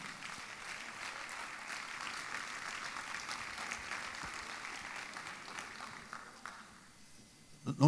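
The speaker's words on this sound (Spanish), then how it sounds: "Un aplauso." A church congregation claps steadily for several seconds, a dense broadband patter that thins out near the end, leaving a few scattered claps.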